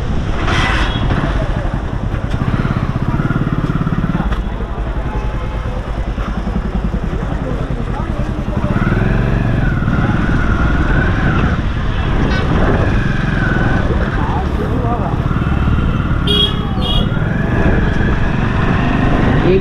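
A motorcycle is ridden across a bridge in Rishikesh, its engine giving a steady, loud drone with rushing wind and road noise throughout, and voices are faintly mixed in.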